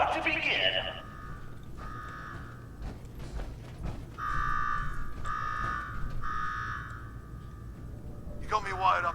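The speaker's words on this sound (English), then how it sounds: "Now go shut off that damn alarm" A buzzing alarm sounds in Fallout 4, repeating in long pulses separated by short gaps, mixed with mechanical clanks, with voices talking at the start and end.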